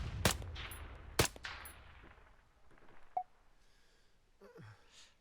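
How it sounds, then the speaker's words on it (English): Two sharp, loud rifle shots from an M14 sniper rifle in ARMA 3, about a second apart, each ringing out with a long fading echo, followed by faint distant impact sounds. "extreme range shots with this rifle and scope combination"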